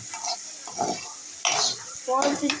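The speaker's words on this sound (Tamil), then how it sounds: "அடுத்தது இஞ்சி பூண்டு பேஸ்ட் போட்டுடணும்." Tomato and curry leaves sautéed with ginger garlic paste for an egg dish: close spatula scrapes and pan clinks over a light sizzle, in short irregular bursts. A voice speaks briefly.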